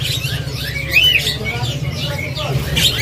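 At a bird market, a caged songbird, a Sumatran bearded bird, gives quick bright chirps and whistled phrases against busy market murmur and low background noise.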